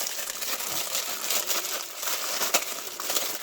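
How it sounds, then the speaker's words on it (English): Crinkly rustling from handling a small pocket handheld remote transmitter for Halloween prop control, a close, continuous crackle of packaging with a few sharper crunches. "excuse the rustling."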